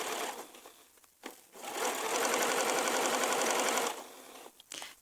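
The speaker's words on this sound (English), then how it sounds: "Hop on over to that sewing machine, lock in your stitches" Sewing machine stitching fabric in a fast, even run of several seconds, bracketed by short pauses and quieter handling noises, with no talking.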